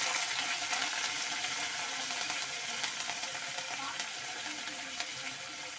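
Dried red chillies, garlic cloves and curry leaves sizzle in hot oil for a dal tempering, a soft, continuous crackling fry with scattered pops and no talking.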